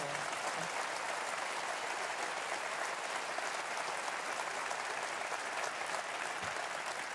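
A comedy show audience gives a steady, dense wave of applause for the stage crew, many hands clapping evenly throughout, heard from a slight distance.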